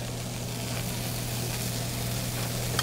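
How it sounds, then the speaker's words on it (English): Shrimp sizzling in a hot pan gives a steady, dense frying hiss that holds at an even level throughout, close and continuous with no talk over it. "Oh yeah, that sizzle is something."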